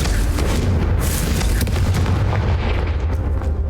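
Booming fiery blasts from the Confringo spell in the video game Hogwarts Legacy, a dense, loud rumbling burst of explosions filling the whole moment with no talking.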